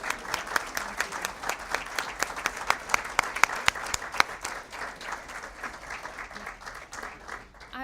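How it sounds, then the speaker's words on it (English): An audience applauds a guest speaker at a speaker series event, a dense wash of many hands clapping at a steady level for several seconds before thinning out at the end. "Let's give him a round of applause."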